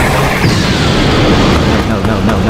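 An animated energy blast explosion fills the scene with a dense, roaring boom that rumbles continuously and loud, with voices shouting over it.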